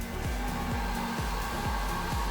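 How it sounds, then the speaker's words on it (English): A heat gun warms a plastic sheet for vacuum forming, blowing a steady, close whir with a fan-like drone and a faint repeating ripple, and no talking. "Then I heated the sheet for about 5 minutes using a heat gun."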